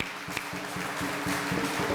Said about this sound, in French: Un applaudissement à la Vierge Marie, encore une fois